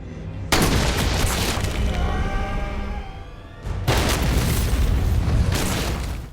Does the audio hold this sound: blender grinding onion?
no